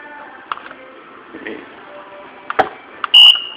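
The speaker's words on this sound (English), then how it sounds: "I'm setting the timer to 8 hours" A crock pot timer being set gives a few short electronic beeps spaced out over several seconds, ending in one longer, louder tone, with faint handling noise between them.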